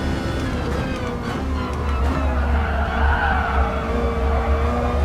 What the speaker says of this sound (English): Car's a little slidey early on.